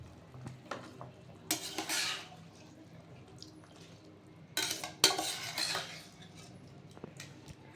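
Basmati rice tipped into a cooking pot for mutton biryani and stirred, giving two brief bursts of pouring and scraping against the metal with light clinks, set against a quiet background.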